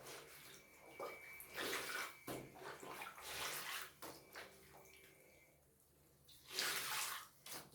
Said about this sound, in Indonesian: aku sih cukup 3 kali ngalirin air gitu sampai terasa insertnya penuh sama air